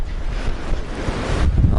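Steady, blustery wind roars against the microphone at the small harbour of Sougia, Crete, with low rumbling gusts that swell toward the end, and a faint wash of surf underneath.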